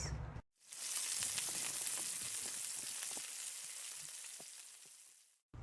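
Ginger and onion frying in a pan for a spicy shrimp and mushroom dish, a steady, dense sizzle with scattered pops and crackles, close and continuous after a brief silent gap, with no talking.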